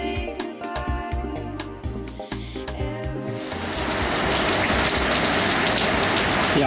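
Heavy rain in the Australian outback pours down steadily and loud after a few seconds of music, building into a dense continuous wash of drops on surfaces.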